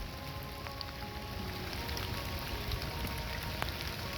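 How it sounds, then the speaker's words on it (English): Heavy rain pours in a dense, even hiss outdoors, steady and unbroken throughout, with no voices. "yeah, it rained a lot"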